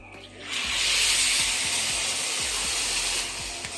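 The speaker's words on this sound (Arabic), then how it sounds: "انا طبعا مش بحمره، انا بس يعني بشوحه شويه كده بالزيت" Rice sautéed in oil in a home kitchen pan gives a loud, bright sizzling hiss that flares up within the first half second and holds steady before easing slightly at the end, with a low hum underneath.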